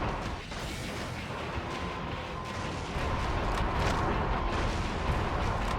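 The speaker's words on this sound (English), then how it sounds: "Oh god, I can't shoot fast enough!" Heavy gunfire from the Metal Wolf Chaos video game: a dense, continuous barrage of booming shots and blasts that grows louder partway through, with no talking.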